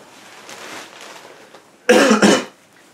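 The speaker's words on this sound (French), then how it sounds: "Et je tousse toujours." Two loud, rough coughs in quick succession, close to the microphone, after a stretch of faint background noise.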